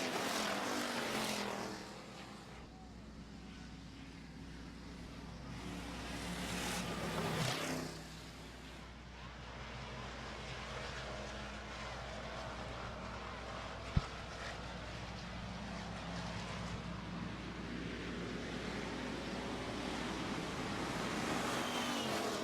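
Pure stock race cars roaring around a dirt oval track during a feature race, a loud blended engine drone that swells and fades as the pack passes, with a brief sharp bang midway.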